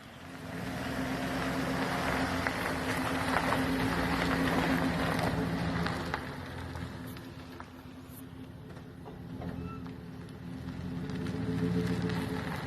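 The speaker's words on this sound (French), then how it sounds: "je vais vous donner un exemple avec le camion qui va passer sur les nids de poules, sur mes patchs temporaires" A truck rolls over potholes covered with temporary recycled-tire patches, a continuous engine rumble and tire roar that swells, dips and rises again over several seconds, heard from the roadside.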